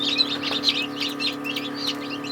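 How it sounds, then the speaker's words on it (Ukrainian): Soft, high-pitched cheeping from chicks hatching inside a homemade incubator built from a freezer, repeating steadily over a constant low mechanical hum. "Дивіться, це в мене четвертий раз, з нього лупляться курчата."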